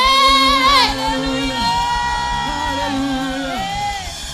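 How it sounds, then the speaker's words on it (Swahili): A church congregation at an archbishop's priesthood fellowship service lets out a loud, sustained wave of cheering, yelling and ululation, high wavering trills over a crowd roar that stays strong for several seconds. "Patia Bwana shangwe na vigelegele."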